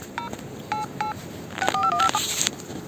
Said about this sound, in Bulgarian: Сега звъни на последния номер.